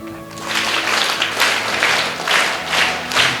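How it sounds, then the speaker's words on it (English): A school audience at a student council investiture ceremony applauds, many hands clapping in a full, swelling patter that pulses in waves throughout. "I'd like to appreciate you or applaud you for being a wonderful audience. Clap."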